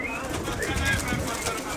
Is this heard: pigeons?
yes